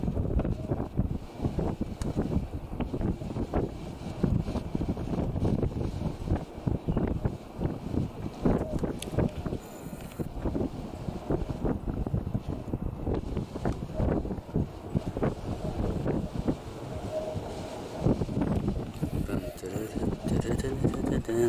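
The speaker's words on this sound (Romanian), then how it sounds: "Bate vântul ăsta, ale, și nu poți să faci nimic când bate vântul." Wind gusting hard across an open airfield as two parachutists come in to land, a steady broadband roar buffeting close against the microphone for the whole stretch, with talk over it.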